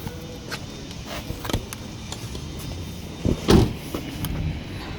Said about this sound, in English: We have the driver's power window master switch.